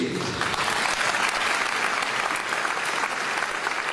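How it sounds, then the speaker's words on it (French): Dense audience applause fills a hall, a steady, loud clapping that continues evenly throughout with no pauses. "Applaudissez, s'il vous plaît."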